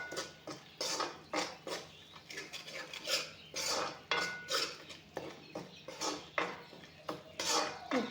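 Amla being stirred and fried in olive oil in a pan, with repeated scraping and clinking of a utensil against the pan in an uneven rhythm over a faint sizzle, close and fairly quiet.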